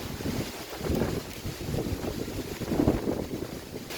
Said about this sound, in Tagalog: Ay, lakas ng hangin.